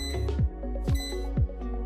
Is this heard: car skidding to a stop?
no